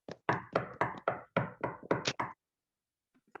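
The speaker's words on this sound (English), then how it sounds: "So somebody's knocking on his door." A classroom audience of second- and third-graders knocks on a door in a run of about nine quick, firm knocks, close and evenly paced, followed by a brief pause and faint scattered taps.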